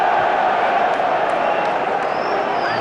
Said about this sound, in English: they're certainly cheering every mistake that Celtic make